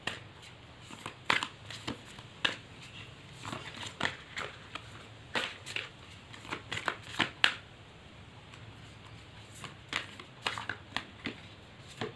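Sacred Indian Tarot cards are shuffled repeatedly in crisp riffling bursts with irregular pauses, close and fairly soft, without any talk.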